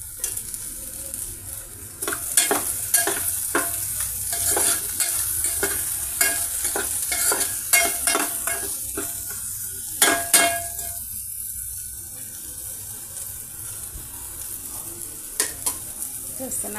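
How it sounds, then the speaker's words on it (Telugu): Okra (bhindi) pieces frying on a medium flame in a pan with salt and turmeric, giving a steady sizzle broken by repeated scraping, stirring clicks of a spatula against the pan, close and fairly loud with no talking. "ఈ విధంగా మీడియం ఫ్లేమ్ మీద ఫ్రై అవుతున్నాయండి."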